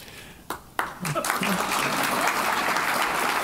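After a speaker finishes at a community panel event, a few sharp early claps quickly swell into dense, sustained audience applause for the panelists that holds steady to the end.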